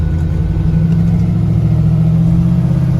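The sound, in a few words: classic 1954 Ford F100 pickup truck driving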